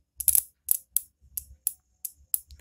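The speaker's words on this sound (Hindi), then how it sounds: "सो एक क्लिक करके आवाज़ आ रहा है" A two-wheeler pass light switch clicks about eight times in a quick, uneven series, each a crisp close snap with a soft low thump, loud against silence.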